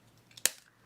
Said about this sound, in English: tiny little snip